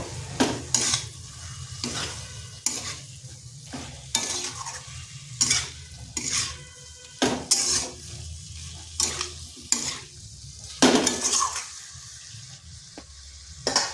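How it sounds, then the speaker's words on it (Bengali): Fried potato and kohlrabi are stir-fried with spices in a hot pan, a steady sizzle broken by regular scraping strokes of a spatula, close up, with no talking. "এরপর দিয়ে দিচ্ছি ভেজে রাখা আলু আর ওলকপি। এরপর ভালোভাবে এই মশলার সাথে কষিয়ে নেব।"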